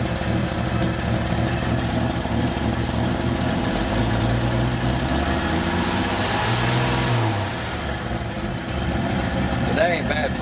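A 1965 Chevy truck engine idles steadily on five-year-old gasoline, a continuous mid-pitched engine drone close by, with someone talking over it near the end.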